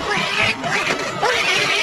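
Cartoon cat Garfield lets out a loud, drawn-out, warbling meow with rising and falling cries, close and alone.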